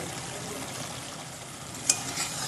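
Turmeric and chili powder stirred into hot oil over a tomato paste base in a pan for a Bengali pabda fish curry, a faint steady sizzle with a brief scraping tap near the end.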